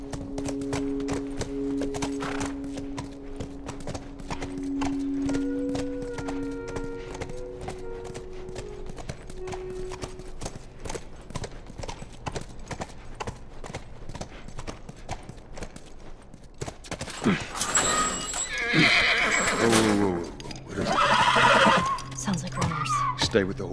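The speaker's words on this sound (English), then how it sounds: "Stay with the horse." A horse in the video game The Last of Us clops its hooves in a steady rhythm at close range, then gives a loud, shaky neigh and snorts near the end, with voices talking over the early part.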